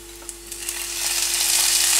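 Tomatoes dropped into hot oil in a pan for Punjabi dal chana, a close, loud sizzle that swells into a steady bright crackling hiss and keeps building to the end.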